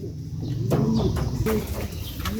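Racing pigeons, pure breeders in a loft, coo in soft low repeated phrases with overlapping calls from several birds, close and moderately loud with faint background noise.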